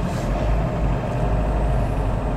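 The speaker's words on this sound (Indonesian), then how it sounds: "Wah, ini suara mesinnya sih mantap." A Mitsubishi Pajero GLX diesel with a manual gearbox, formerly a mining vehicle, idles or runs with a steady, loud low rumble that fills the whole short stretch without any talking.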